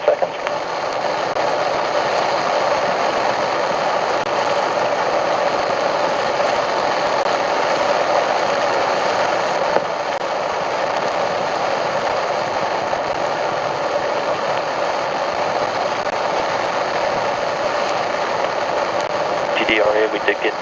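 Artemis moon rocket engines roaring through a hot fire test, a loud, steady, broadband rumble that holds unbroken for the whole stretch.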